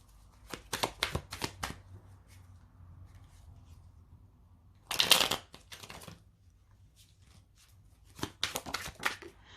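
Vision Quest Tarot cards are shuffled in bursts of crisp riffling and flicking, close and fairly loud, with quiet gaps between the rounds.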